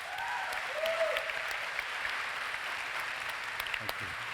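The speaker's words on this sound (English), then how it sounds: "Give them a huge round of applause." An audience gives a big round of applause for the Queen's Young Leaders at a One Young World event, dense continuous clapping filling the hall from start to finish.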